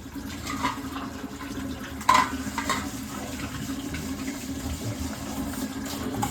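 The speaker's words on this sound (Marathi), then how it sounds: "आम्ही काय करतो हा डायरेक्ट नळ खोलतो" Water gushes from a fully opened tap, a quiet, steady rushing stream with a brief louder splash partway through.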